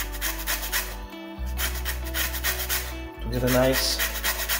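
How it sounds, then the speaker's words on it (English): An orange grated for zest while making homemade chocolate truffles, a close, rough scraping rasp in repeated strokes with brief pauses, heard beneath a person talking. "I will grate the orange in"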